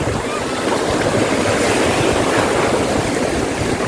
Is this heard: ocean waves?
yes